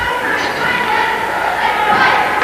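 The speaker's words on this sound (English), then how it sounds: "cheerleaders attempting to get the crowd going, to get behind the home team" Crowd noise from home fans at a high-school hockey game, St Stephen's against Brother Rice, with cheerleaders rousing them: a steady wash of shouting and cheering throughout, swelling slightly near the end.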